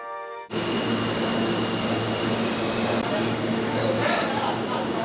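Steady loud rumble and hum of a train, starting abruptly and continuing evenly, with faint metallic clinks and a brief high squeal near the end.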